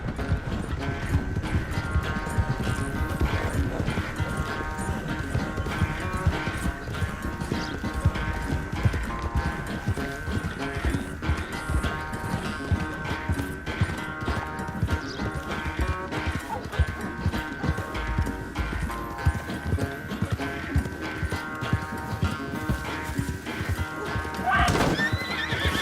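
A horse gallops with rapid, rhythmic hoofbeats and repeated neighs and whinnies during a race. Steady music plays underneath, and the sound stays close and continuous for the whole stretch.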